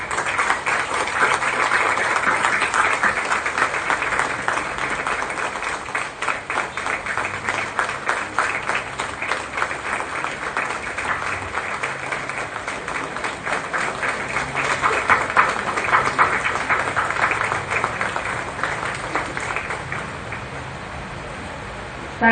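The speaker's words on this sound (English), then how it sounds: "join in with a resounding sound of applause to mark this special moment" Sustained audience applause at a magazine unveiling during an education development corporation event in Goa, a dense, continuous wash of clapping that holds steady for over twenty seconds.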